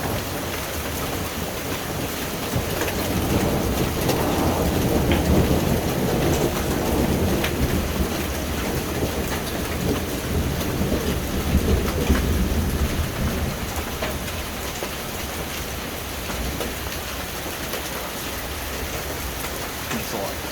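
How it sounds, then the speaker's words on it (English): A hail thunderstorm in Italy: dense rain and hail pelting surfaces in a continuous hiss, with low rolling thunder swelling midway, and voices faintly underneath. "That's ice coming from the sky. It's called hail."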